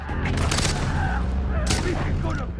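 Gunfire from a 3-round burst rifle in the video game Far Cry 3, with several dense volleys of shots in quick succession over a steady background of game sound and low rumble.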